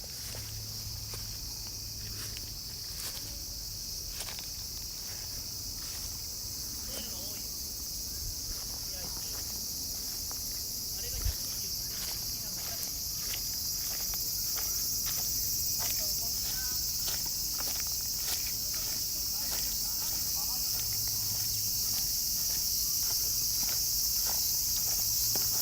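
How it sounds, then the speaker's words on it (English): Cicadas buzzing in dry trees in Tokyo: a steady, loud high drone runs unbroken across the whole stretch, with a few faint footsteps and rustles beneath it. "Trees are growing, the cicada are buzzing."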